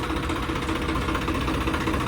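A Mahindra tractor engine in clean condition idles steadily and close by, a continuous low rumble with a faint rhythmic knock running through the whole stretch.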